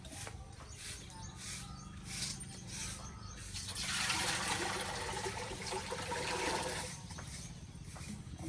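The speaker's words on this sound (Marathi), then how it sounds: "आला इकडे पाणी" Water running and trickling outdoors, a faint steady flow that swells louder midway with a rushing splash before easing back, heard alone at a distance.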